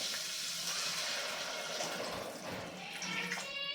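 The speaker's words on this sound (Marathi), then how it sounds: "त्यानंतर आता यामध्ये गरजेनुसार पाणी घालायचं आहे" Water pours steadily into a pan, a continuous splashing rush that runs without pause and fairly softly throughout.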